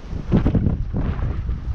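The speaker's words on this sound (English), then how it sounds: "it's a little windy." Gusty wind buffets the microphone in a brief, rumbling rush, fairly loud and close, with no other sounds standing out.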